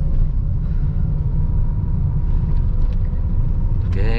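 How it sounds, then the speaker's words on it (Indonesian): A Honda Mobilio car engine revs up steadily to about 3000 RPM before shifting into second gear, a continuous low rumbling drone heard from inside the cabin, loud and constant throughout. "Ini kita gas lagi, RPM 3000 baru naik ke"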